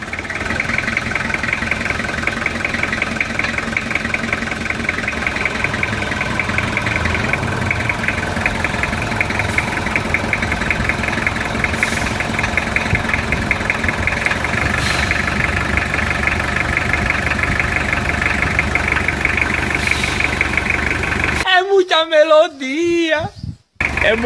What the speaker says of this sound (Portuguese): É muita melodia, né, moçada, esse motor. Esse motor, ele toca música